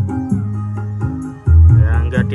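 Music plays through a DBX 1231 equalizer set flat with no bass boost, a short loud stretch of full-range sound with pulsing low notes that swells louder halfway through.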